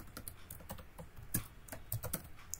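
Computer keyboard typing, a quiet, close run of light irregular key clicks with no voices.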